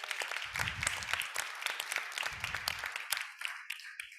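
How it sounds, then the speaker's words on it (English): Audience applause for speakers at a panel on private sector water impacts, lively clapping from a room full of people that tapers off into a few scattered claps. "I think we should do a quick round of applause for our speakers."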